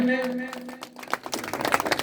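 An audience claps at the prize ceremony of a state-level bhajan singing competition in Sadhpura, the applause starting after a sustained tone and swelling into a dense, lively patter.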